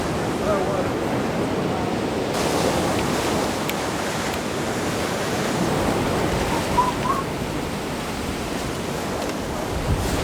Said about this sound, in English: these waves are a bit rough today